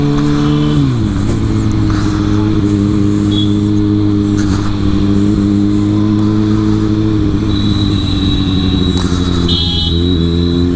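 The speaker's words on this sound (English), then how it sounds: "I just wanted to see how this motorcycle feels while sitting on it, while riding it a bit" A Kawasaki Ninja ZX6R motorcycle rides along, its engine droning loudly and steadily with shifts in pitch as it revs up and eases off, wind noise rushing throughout.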